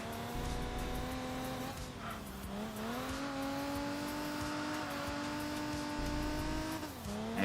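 Race car engine from the Enthusia Professional Racing video game, a steady high-pitched drone that rises and dips through gear changes and corners, with tire squeal layered over it and no talk.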